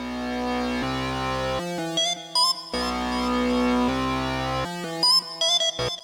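Synth lead melodies layered over sustained chords in a hard trap-style beat, with bright, stacked harmonic tones that shift between full held chords and choppier high lead phrases, loud and alone.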